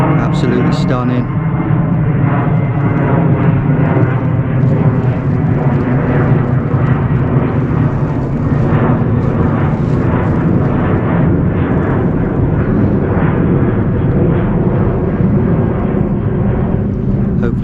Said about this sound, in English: Just give it a second as the plane goes over.